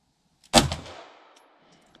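A single gunshot from a weapon at a shooting range cracks out sharply, then its reverberant tail fades away over about a second and a half.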